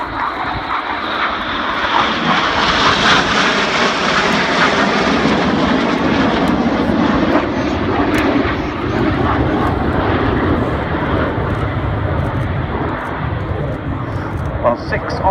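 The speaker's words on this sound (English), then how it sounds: "Celebrating the Tornado Bomber Force." A Tornado bomber jet roars past at the Cosford air show, its loud engine rising and sustained overhead, while a commentator talks over the noise throughout.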